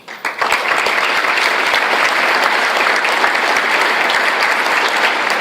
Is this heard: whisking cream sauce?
no